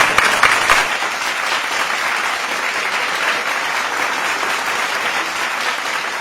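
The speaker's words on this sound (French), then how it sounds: "S'il vous plaît, veuillez applaudir." Audience applause at a wedding declaration, a dense wash of many hands clapping steadily and loudly throughout, with a few sharper claps near the start.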